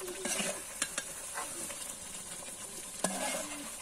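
A large katla fish head sautés in a pan, giving a close, steady sizzle broken by a few scraping stirs and knocks of the spatula.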